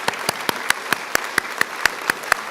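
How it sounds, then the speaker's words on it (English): Sparse, evenly paced claps at a nurse pinning ceremony, sharp close hand claps landing about four times a second in a steady rhythm, sounding like only a few people clapping. "Let's give them a round of applause."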